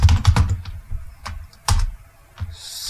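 Text is typed on a computer keyboard in quick, uneven bursts of crisp key clicks with short pauses between, close by.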